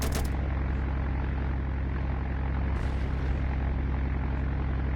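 An airplane flies with a continuous, loud, even engine drone that holds steady from start to finish, with a brief rushing burst partway through.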